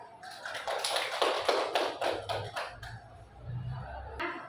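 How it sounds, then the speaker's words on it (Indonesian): Classroom applause during a micro-teaching lesson, a short burst of scattered hand claps from a small group that fades out, followed by low murmuring. "Beri aplaus"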